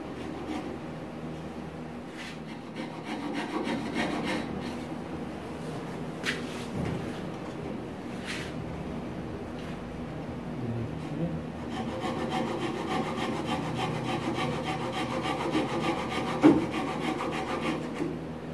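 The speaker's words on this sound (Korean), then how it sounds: "돌아가면서 톱질해서, 그죠?" Steady rasping strokes of a hand saw leveling the legs of a Windsor-style wooden stool, continuing for a long stretch at close range with a few brief knocks and scrapes.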